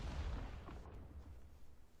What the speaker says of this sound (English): I'm throwing grenades at them.